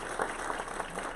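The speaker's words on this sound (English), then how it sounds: "let's have a big round of applause for our annual sponsors" A short stretch of continuous audience clapping for annual sponsors at a relocation council meeting, a dense steady patter from a room of people.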